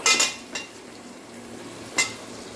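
Onions cooking in oil in a pan for mutton haleem, with a few sharp clinks and scrapes of a metal spoon stirring against the vessel over a soft background sizzle.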